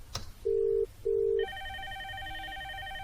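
A VoIP softphone call rings on an IP PBX setup: two loud, steady electronic ring tones followed by a higher multi-tone ringing pattern, clear and close with no talk.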